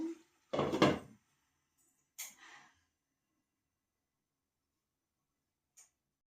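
A metal lid set down on a cooking pot of chicken curry in a home kitchen, a short clattering knock followed by a softer clink, then quiet apart from one tiny tap near the end.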